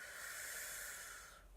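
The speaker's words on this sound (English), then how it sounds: "And you could close your eyes and just take some breaths." Slow, deep breath drawn in and let out softly during a guided relaxation, a steady airy hiss lasting over a second before fading, close and quiet with no voice.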